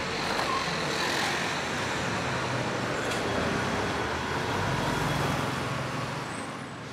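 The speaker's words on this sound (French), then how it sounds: "Comme vous le voyez, il y a beaucoup de circulation et l'air est pollué." Dense, continuous roar of heavy city traffic in Shanghai, with engines and tyres blending into a loud, unbroken wash and no distinct voices.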